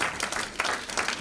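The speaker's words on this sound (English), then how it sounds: "a round of applause" Participants at tables in an education leadership workshop give a round of applause. The clapping is quiet and somewhat distant, coming in soft, uneven swells across the brief stretch.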